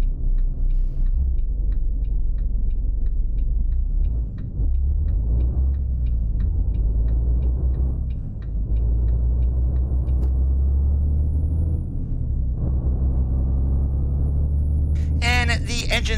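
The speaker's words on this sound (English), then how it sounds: "the engine sounds today on the Volvo do come from Lean" A Volvo VNL truck engine in American Truck Simulator drones steadily with a deep, low rumble that rises and falls through gear changes, continuous and close throughout.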